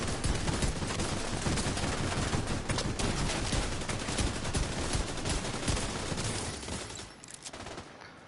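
Rapid, dense gunfire from a Liberty pistol in The Division 2, loud and continuous with overlapping shots and game effects, thinning out near the end.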